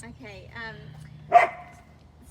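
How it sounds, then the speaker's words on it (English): A dog gives a single short bark indoors, heard right after a woman's brief spoken word, fairly close and moderately loud against a quiet room. "sorry about the dogs"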